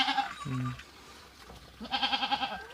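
Goats in a shed used for storing grass give several short, close bleats, a pair near the start and a wavering run of calls near the end, with quiet pauses between.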